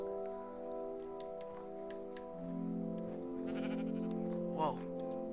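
A sheep bleats in Minecraft on PS4, one short wavering bleat near the end over soft ambient game music and faint ticking, while someone talks quietly throughout.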